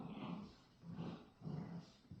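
Young puppies named Onyx and Arrow growl at play in three short rumbling bursts. The growls are close and moderately loud, with no talk over them.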